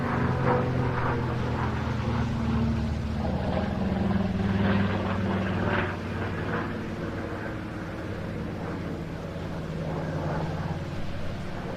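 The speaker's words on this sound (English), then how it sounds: "It's a big aeroplane to be putting on an aerobatic routine, but it does it very powerfully and very smoothly." A B-17 bomber flying an aerobatic display at the Jersey International Air Display, its piston engines and propellers giving a loud, steady droning roar that swells slightly midway and then holds.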